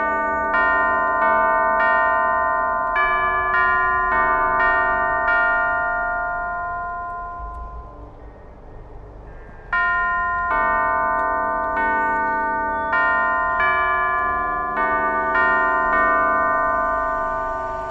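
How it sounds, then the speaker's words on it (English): A sequence of bell tones from the bell puzzle in Alice Madness Returns rings alone, note after note in a steady rhythm. A brief lull in the middle lets the bells fade before the melodic pattern resumes. "Only by playing the correct sequence of bells can it be opened."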